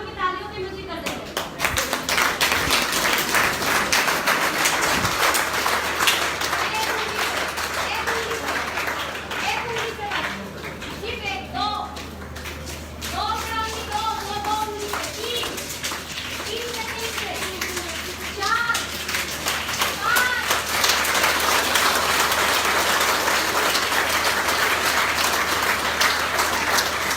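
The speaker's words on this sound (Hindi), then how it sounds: "ऐसे हाथों की तालियों से म्यूजिक कर देंगे" Hands clapping as a rhythm for exercise at a gathering in Ghaziabad, heard as a long, steady patter of claps from a group, with children's voices and chatter mixed throughout.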